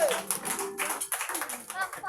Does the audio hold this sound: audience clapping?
yes